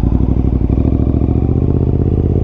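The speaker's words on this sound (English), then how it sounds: "The sound of it idling is just" A Honda RC51 sport motorcycle engine idling close by with a loud, lumpy, rapid pulsing beat that holds steady throughout.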